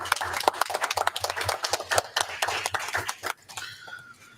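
Town council meeting audience applauding in a brief burst of dense, close handclaps with voices mixed in, tapering off toward the end.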